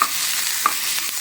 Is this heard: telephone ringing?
no